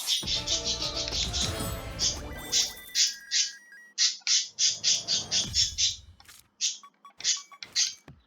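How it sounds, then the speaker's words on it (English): Pet birds in a cage squawk and call repeatedly, sharp shrill bursts coming in quick uneven runs with short pauses, fairly close and loud over faint background music. "Also, if you can't tell, the birds are upset."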